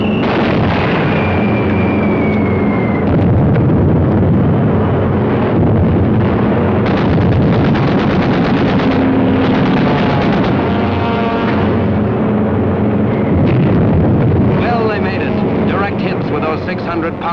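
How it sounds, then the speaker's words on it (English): Bombs of TNT exploding in a 1943 U.S. Army Air Forces war film, loud booming blasts mixed with aircraft engine roar and wind, with a narrator talking over much of it. "Pounders of TNT blowing up right in Hirohito's face"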